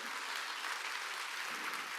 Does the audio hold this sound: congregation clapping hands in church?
yes